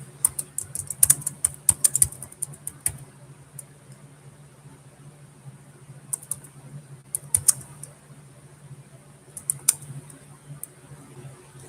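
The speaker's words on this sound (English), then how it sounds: "If I can get it typed right." Keys clatter on a laptop keyboard in quick uneven bursts, close and fairly quiet, with pauses between runs of typing over a low steady hum.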